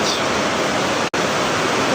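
A river rushes in a steady, loud broadband roar close by, continuous apart from one momentary dropout midway.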